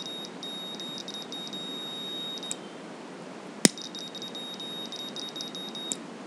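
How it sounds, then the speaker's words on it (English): Arduino fire alarm buzzer: faint repeating electronic beeps and a steady high tone over a hissy background, with a sharp click near the middle. "So this is fire alarm."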